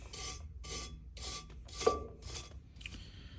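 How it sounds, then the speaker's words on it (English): A wire brush scrubs rust off the drum brake backing plate and pivot pin of a GMC motorhome in about five rapid, close back-and-forth strokes with brief pauses between them and no talk. "just take a wire brush and make sure you scrub it really good"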